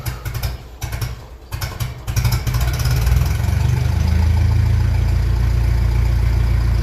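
A 1957 Ferguson 35 TVO tractor engine, not running as usual, is given a little choke. A few uneven bursts settle after about two seconds into a loud, steady, low-pitched running drone.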